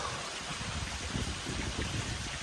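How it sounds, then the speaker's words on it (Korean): A mountain valley stream flows in a steady, rushing wash of water on Gyeryongsan in autumn. The sound is continuous and fairly soft, and there is no talking. "계곡 물소리도"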